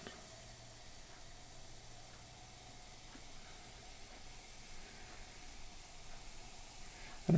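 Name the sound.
vinegar fizzing as it is slowly added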